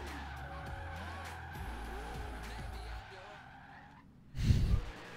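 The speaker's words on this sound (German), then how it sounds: "vom Ford Escort den Turbo anhören" A turbocharged Ford Escort rally car in Forza Horizon 3 drives hard, its engine note mixed with skidding tires before a brief louder burst near the end, with a voice speaking over it.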